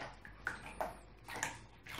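Water splashes and drips during a ferret bath in a tub, with scattered light sloshes and droplets close by, fairly quiet.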